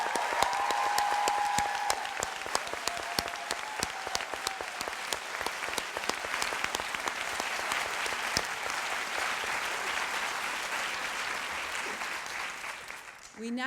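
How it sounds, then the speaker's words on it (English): Sustained audience applause fills a public meeting hall as the crowd claps for the contributors; dense, steady clapping holds for most of the stretch before thinning and fading near the end. "Another round of applause,"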